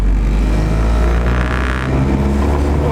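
A JDM Honda B20B engine swapped into an EK chassis runs on its first start, a loud close idle with a brief rise in engine note midway.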